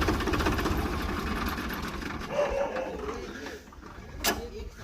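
A Swaraj 963FE tractor engine idles close by with a steady low, even rumble and mechanical clatter, while someone talks over it.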